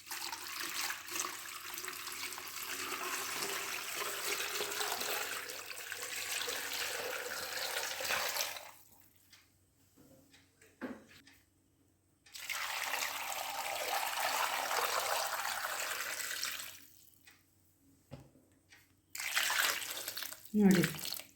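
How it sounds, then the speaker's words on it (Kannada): Water is poured into a pot of raw bananas coated with coconut oil, papad preparation, as two long steady streams separated by a quiet pause, fairly soft and up close. "ಈಗ ಇದಕ್ಕೆ ಇದು ಮುಳುಗುವಷ್ಟು ನೀರು ಹಾಕುವ."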